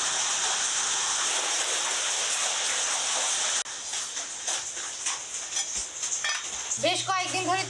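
Steady rain in Siliguri patters and hisses throughout, then softens partway; kitchen clatter and a brief voice-like sound appear near the end.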